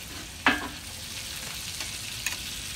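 Red salsa simmers in a pan with a soft, steady bubbling hiss, broken by a spoon clink and a few light stirring knocks.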